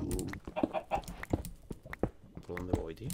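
Minecraft chicken clucks pop up repeatedly amid a busy mix of talking and other sound effects, fairly quiet overall.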